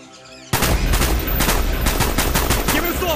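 Automatic gunfire in the video game Call of Duty Black Ops, loud rapid bursts of shots bursting in suddenly after a quiet moment and continuing in a dense, rattling stream at close range.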